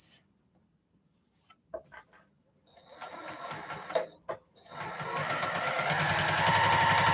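A sewing machine stitching small fabric strips for a postage-stamp quilt, starting with a few soft clicks and taps, then running in short bursts before settling into a steady close whirring hum.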